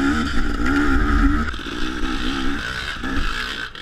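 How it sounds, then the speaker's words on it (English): Dirt bike engine during a winter scramble race, revving and accelerating close by with a buzzing, wavering tone that dips and climbs as the rider works through the course. "That bike, it sounded so familiar."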